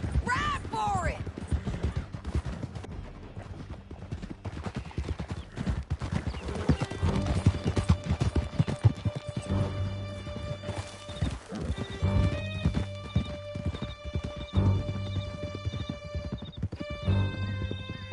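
Horses gallop hard through a canyon in Red Dead Redemption 2, a steady pounding clip-clop with whinnies, under a rising music score and occasional voices.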